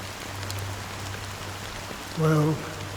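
Steady rain hisses softly and evenly in Honkai: Star Rail beneath a faint low hum, with a short louder tonal burst near the end.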